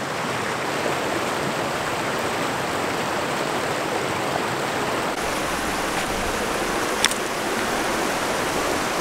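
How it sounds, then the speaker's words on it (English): Water rushes steadily over stones at a shallow stream ford, a dense, continuous broadband roar that stays close and even throughout, with no voices. "The water is rushing over those stones"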